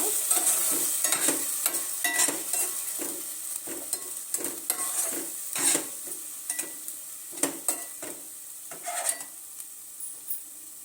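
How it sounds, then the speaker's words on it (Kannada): Masala fries in a pan with a low, continuous sizzle while a utensil stirs and scrapes it in repeated short strokes, close up and with no talking. "ಮಸಾಲನ ಒಂದೆರಡು ನಿಮಿಷ ಚೆನ್ನಾಗಿ ಹುರ್ಕೊಳ್ಳೋಣ"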